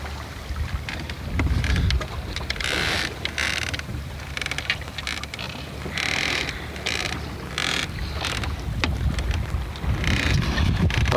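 A sailboat moves along at about four miles an hour on the way to the Isles of Shoals, with steady water rushing and wind noise, broken by periodic creaks and clicks of rigging and fittings close by.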